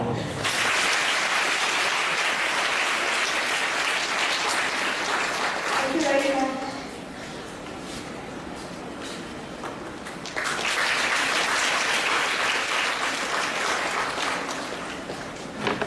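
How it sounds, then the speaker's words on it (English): Audience at a Loreto School event in Calcutta claps for a guest called up on stage; dense, loud applause fills most of the stretch, dips briefly mid-way, then swells again, with a short spoken thanks. "Please clap for her."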